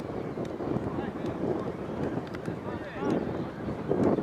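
Steady wind buffets an outdoor microphone beside a football pitch during a Worthing United against Midhurst & Easebourne match, a continuous low rushing roar with faint crowd and player voices under it.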